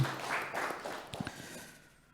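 Faint applause rises briefly and then fades away. It comes from the seated guests at a formal Bali provincial government anniversary ceremony.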